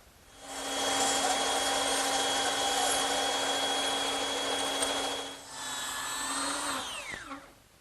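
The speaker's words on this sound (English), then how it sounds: "I'm going to use the bandsaw" A bandsaw cuts scallops into a wooden bed post, a steady loud whine with a droning tone under the blade, then easing off as the cut ends and the blade spins down.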